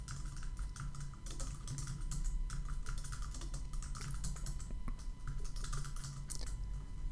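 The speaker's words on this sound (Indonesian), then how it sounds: "Anda ketikkan nama orangnya" Typing on a computer keyboard while entering a customer's name and address into a purchase order form, with rapid irregular clicks and keystrokes running throughout over a low steady electrical hum, close and moderately quiet with no talking.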